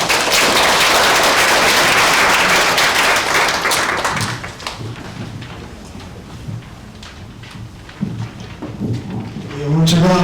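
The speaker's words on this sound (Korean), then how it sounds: "박수 부탁드리겠습니다." A large conference audience bursts into loud, dense applause that swells for about four seconds, then thins to scattered claps before a single voice begins speaking.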